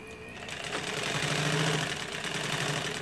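An old dress sewing machine runs after repair to a mechanism that had been gummed up with cooking oil. It makes a steady, close mechanical whir that lasts about three seconds, with no voices.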